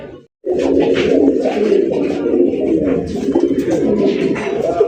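An almond-coloured pair of fancy pigeons coos continuously and loudly up close, with soft rolling calls layered over one another after a brief pause at the start.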